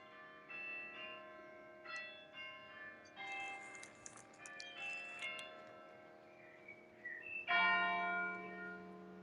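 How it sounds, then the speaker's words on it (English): Church bells of St Mary de Haura ring in overlapping, resonant peals, several strikes layered with a louder clang near the end, heard with no talking. "Oh, you got the church bells."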